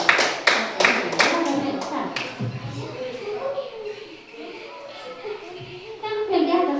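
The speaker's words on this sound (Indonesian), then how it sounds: "tepuk tangan dulu buat Aisyah" Several sharp, loose claps from a classroom of young pupils for a classmate's performance, quickly thinning into scattered taps and shuffling while children chatter in the background.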